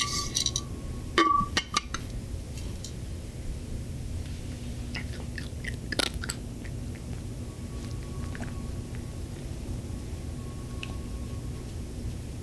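A cat crunches dry food while eating, with sharp crisp bites and clinks scattered across the stretch, loudest near the start and middle, against a low steady background hum.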